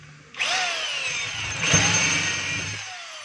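A DeWalt D25033 rotary hammer in drill mode spins up abruptly and runs at a steady high whine, loud and close, with a brief surge mid-run before it winds down.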